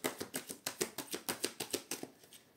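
A deck of tarot cards being cut and shuffled, a quick regular series of about a dozen soft riffling snaps, close and fairly quiet, tapering off at the end with no voice over it.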